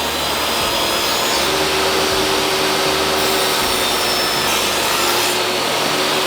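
A table saw rips 2.5-inch strips from a 2x8 board, giving a loud, unbroken roar of blade cutting wood that lasts the whole stretch with no talk.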